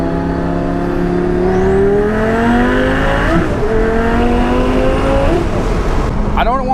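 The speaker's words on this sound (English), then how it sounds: "So this is what happens if you slam the gas in second gear." A twin-turbo Lamborghini Gallardo making about 1106 wheel horsepower accelerates hard in second gear, its engine note climbing loudly and continuously from inside the car.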